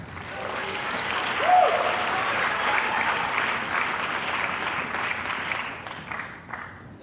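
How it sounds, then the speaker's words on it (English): Applause from an audience at a Martin Luther King observance, honoring a senior division winner; a broad wash of clapping that swells early, holds steady, then tapers near the end, with faint voices mixed in. "So let's give him a round of applause"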